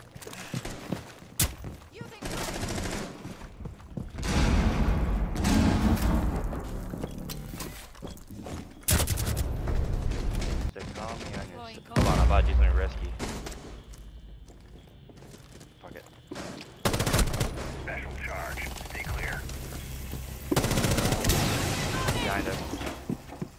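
Gunfire and impacts in the video game Rainbow Six Siege, with sharp shots and thuds scattered among in-game clatter, heard under frequent excited talk from players.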